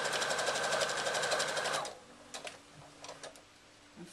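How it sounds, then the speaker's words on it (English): A sewing machine stitches across the top of a reversible handbag through bulky layers with straps sandwiched between, a fast rhythmic whirring that runs for about two seconds and then gives way to a few faint clicks and handling sounds. "So I'm sewing all the way across the top, sandwiching those straps in between."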